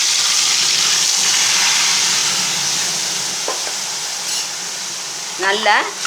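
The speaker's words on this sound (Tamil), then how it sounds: "இந்த நெய்யிலேயே இந்த அரைச்ச பேஸ்ட்டை விட்டுருவோம்" Ground masala paste sizzles in hot ghee for a chicken ghee roast, a loud, steady frying hiss that eases slightly over time, with a brief spoken word near the end.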